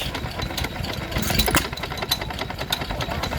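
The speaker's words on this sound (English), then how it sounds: "here we have a totally original, a Manco 2¼ horsepower hit and miss" A totally original Manco 2¼ horsepower hit-and-miss stationary engine runs with a steady chuffing and mechanical clatter, close by and continuous, among the noise of an outdoor Victorian show.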